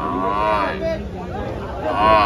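A Jafarabadi buffalo at a buffalo market lets out deep, drawn-out lows, one near the start and another at the end, with background chatter from people nearby.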